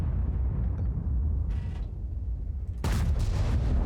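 Tier 8 Ka-Ri tank destroyer gun in World of Tanks, with a heavy low rumble of engine and battle ambience building to a sudden loud cannon blast near the end that stays boomy.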